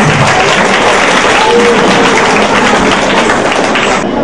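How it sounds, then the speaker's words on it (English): A loud, dense round of applause fills a school day event, many hands clapping in a thick continuous roar with occasional thumps, sustained at full strength for about four seconds. "Please give them a loud round of applause"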